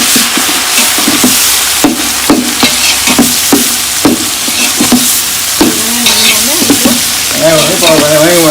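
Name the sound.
stirring and frying coriander, mint and garlic in a pot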